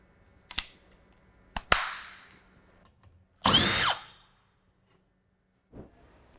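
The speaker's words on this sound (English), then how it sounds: "First of all, I'm doing that by using simply our drywall screwdrivers" Drywall screwdriver with a power-save function, short sharp clicks and a brief loud motor burst of driving, separated by quiet gaps.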